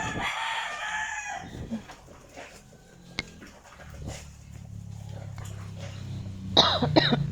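A short burst of coughing near the start, followed by faint clatter and a low hum, with a brief sharper noise near the end.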